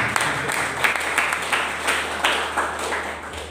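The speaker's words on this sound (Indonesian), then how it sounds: "Tepuk tangan buat Tuhan Yesus." Congregation clapping during a church sermon, in uneven bursts of applause that rise and fall in loudness over a steady room hum, with no voices over it.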